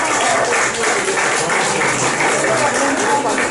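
Audience applause at a public talk about getting open net pen fish farms out of the ocean, a steady dense wash of clapping filling the whole stretch at fairly loud level.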